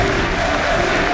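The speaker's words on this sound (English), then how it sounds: "We hear the crowd here." A large arena crowd at an esports championship final roars and applauds in a dense, steady wash of cheering that fills the whole moment at close, loud level.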